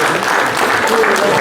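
Staff are honoured with applause at a Central Bank of India zonal office Independence Day celebration, a brief burst of loud, continuous clapping with voices mixed underneath.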